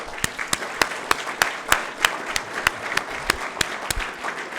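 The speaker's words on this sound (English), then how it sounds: "Please join me in one last round of applause for all of our recipients." Audience applause for award recipients at a regional awards of merit ceremony, a steady round of clapping from a modest crowd with sharp individual claps standing out.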